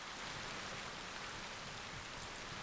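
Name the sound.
heavy rain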